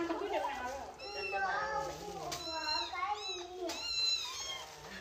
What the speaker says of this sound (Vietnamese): Mèo.